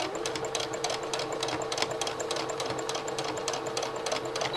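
A domestic sewing machine stitches two layers of fabric, running at a steady pace with an even, rapid ticking rhythm and a soft mechanical whir, close and alone.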